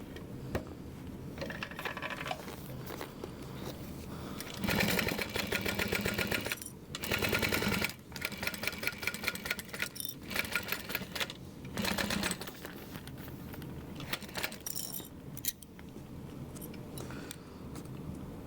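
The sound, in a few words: sewing along a 3/8 inch line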